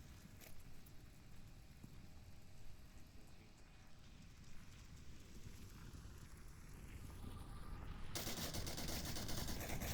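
Gunfire in the VR shooter Onward, heard as a dense, continuous rattle of shots that swells louder toward the end, with no talk over it.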